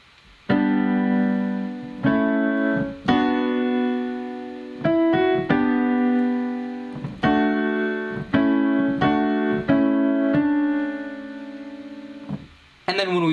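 Piano playing the melody of a song note by note, each sustained tone ringing clearly and close at a moderate pace, with no talking over it.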